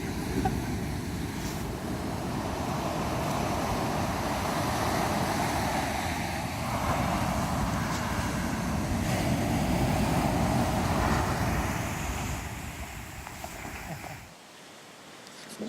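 Ocean surf rolling in with gusting wind buffeting the microphone on the coast at Point Reyes at sunset, a steady loud broadband roar with swells rising and falling, ending abruptly near the close.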